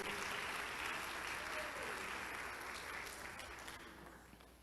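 Church congregation applauding during a Portuguese-language sermon, a faint, distant, continuous patter of clapping that slowly fades out over a few seconds.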